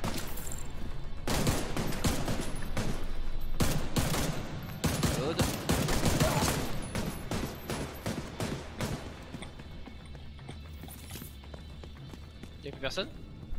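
Rapid bursts of gunfire in The Division 2 co-op play, sharp repeated shots clustered over several seconds then thinning out, with people talking over the action.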